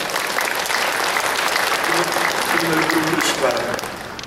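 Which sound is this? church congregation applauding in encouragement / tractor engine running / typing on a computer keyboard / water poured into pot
church congregation applauding in encouragement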